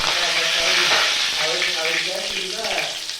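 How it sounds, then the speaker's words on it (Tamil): Cumin seeds and curry leaves fry in hot oil in a pan, giving a loud, close, continuous sizzle with stirring scrapes, and faint talk beneath it. "நான் ஒரு பேனில் கொஞ்சமாக எண்ணெய் ஊற்றிக்கினேன் எண்ணெய் காஞ்ச அப்புறம் ஜீரகம் கொஞ்சம்"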